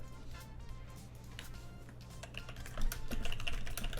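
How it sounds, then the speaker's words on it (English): Sparse, uneven clicks of typing on a computer keyboard, fairly quiet and close, over a steady low electrical hum, with a slightly busier burst of keystrokes near the end. "Oh, I fucked up on my typing."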